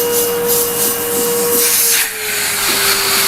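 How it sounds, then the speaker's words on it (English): A Henry vacuum cleaner runs loud and steady throughout, its motor hum and airflow rush constant, with a brief dip in suction near the end. "You want a vacuum that does the business, it's a Henry, not a shark."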